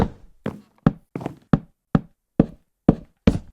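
Minecraft spruce door block placement, a run of nine crisp wooden knocks at an even pace, each a short dry thunk with a quick decay, alone with no talk.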